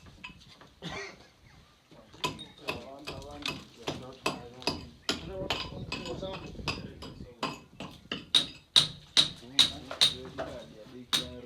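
Roofers hammering on a house roof in a Kenyan village, a run of sharp metallic knocks and clinks in irregular bursts that settle into a steady, evenly spaced series of loud strikes near the end, with voices and site noise underneath.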